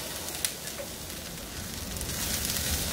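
Onions seasoned with salt sizzle steadily in a pan over medium heat, a soft continuous frying hiss with faint crackles.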